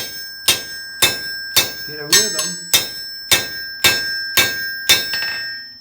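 A blacksmith strikes metal over a square hardy on the anvil during a wine-rack build: about ten ringing, bell-like hammer blows land in a steady, even rhythm at close range, with a voice speaking briefly between them.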